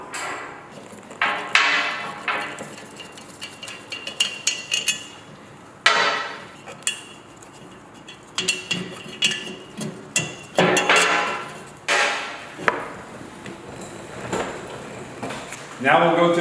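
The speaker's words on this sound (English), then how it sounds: "So the first thing we're going to do is remove the 8 bolts that hold the barrel on." Bolts are removed from the barrel of a Bonnot 4 Series extruder, a series of metallic clanks, taps and scraping tool sounds at irregular intervals, with a voice talking in between.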